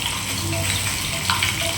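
Chopped onion and curry leaves fry in hot oil in a home kitchen, giving a steady, close, even sizzle with no pauses and no voices.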